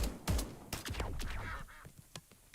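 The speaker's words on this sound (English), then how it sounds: "I hear ducks." Ducks in the video game Escape From Duckov give a quick burst of quacks and honks, fairly close and clear, followed by scattered softer calls amid the game's background ambience.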